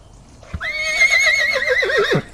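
A loud, close horse neigh rises into a long wavering whinny and ends in a quavering drop, sounded alongside a toy horse during play.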